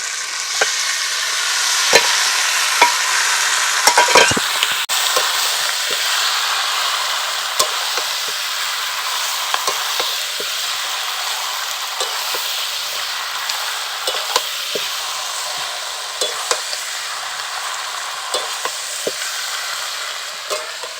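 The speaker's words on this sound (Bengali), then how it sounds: "এখন এখানে ম্যারিনেট করা চিকেনটাকে দিয়ে দেবো" Marinated chicken dropped into a pan of lightly fried onions, sizzling in a steady loud hiss for about twenty seconds, with sharp clicks and scrapes of a spoon stirring throughout and no voices.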